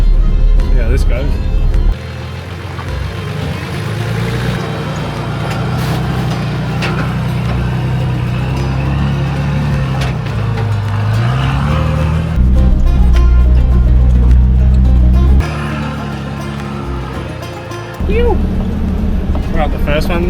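Engine of a budget four-wheel drive working over an off-road test track, a steady loud drone that rises and falls with throttle, with a person talking over it.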